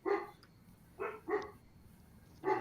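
Several dogs barking in short bursts at moderate distance, four separate barks spaced unevenly, behind a quiet room during a late-night online chat.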